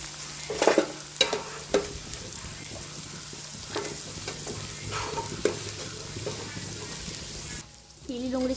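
Dry onion and green onion frying in a pan, a continuous close sizzle broken by several sharp stirring knocks and scrapes early on, then a short lull before the sizzle resumes.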